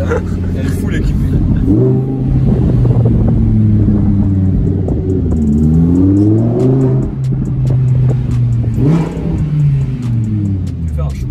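A Lamborghini Huracan police car revs its engine repeatedly up close, deep rumbling blips climbing and falling several times in a row, with people talking alongside the roar.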